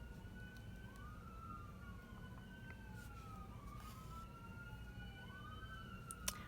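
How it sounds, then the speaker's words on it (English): An emergency vehicle siren wails on a busy London street, its rising and falling tones sweeping repeatedly and sounding faint and fairly distant over low traffic rumble. "There are a ton of sirens and such today outside. Here comes one now. It's coming pretty close."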